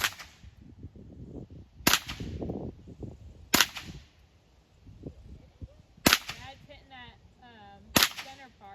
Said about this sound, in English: daughter are going to take their frustrations out on this Keurig with the Ruger 1022